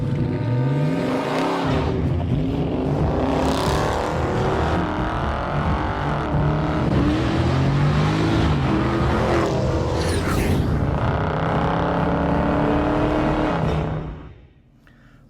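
A 2021 Dodge Challenger V6 drives and accelerates, its engine rising in pitch through gear changes with rushing road noise, loud and close, before fading out near the end.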